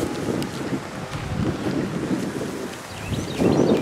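Strong wind buffets the microphone on a beach on a hot July day, a steady loud roar with gusty swells, surf or water noise mixed in, no voices.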